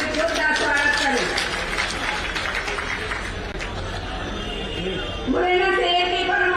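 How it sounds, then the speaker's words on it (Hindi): Applause and crowd noise at a political gathering welcoming a state party president, a steady wash of clapping with an amplified voice announcing over it. "हमारे प्रदेश अध्यक्ष सम्मानित परम आदरणीय विष्णुदत्त शर्मा जी का भी एक बार तालियों से जोरदार स्वागत करें।"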